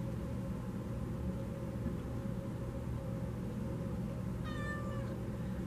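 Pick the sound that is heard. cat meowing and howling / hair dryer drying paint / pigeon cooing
cat meowing and howling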